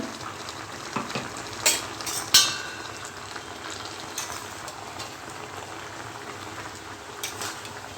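Blanched greens with spices are stirred in a pan over gentle sizzling and bubbling, with a few sharp scraping clatters of the utensil early on.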